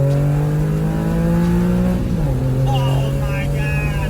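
A Porsche 911 996 Carrera engine pulls hard while driving, its strong, steady tone rising and then briefly dipping as a gear changes before climbing again, loud and close throughout.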